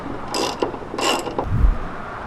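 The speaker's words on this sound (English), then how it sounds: "Now I'm just using the ratchet to get it off." A ratchet loosens a 17mm bolt on the strut of a Honda S2000, giving a few short bursts of rapid clicking followed by a dull metallic knock, close and moderately loud.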